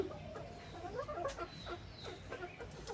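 Chickens feeding on puffed rice mixed with salt and water cluck repeatedly in short, soft bursts, fairly quiet and nearby, with no talking.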